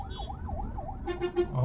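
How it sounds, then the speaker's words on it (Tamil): Ambulance siren wailing through Coimbatore city traffic, a rising-and-falling tone cycling steadily at moderate distance, followed by a few quick horn blasts amid road noise. "ஆஹா, பின்னாடி ஒரு ஆம்புலன்ஸுங்க."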